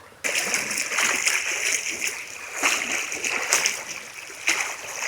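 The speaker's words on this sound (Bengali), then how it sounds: "এখানেও প্রচুর স্রোত" Strong water rushes and splashes through a stream channel below a waterfall on the Napittachhara trail in Mirsarai, Sitakunda, a dense, steady roar with brief louder splashes as it is crossed.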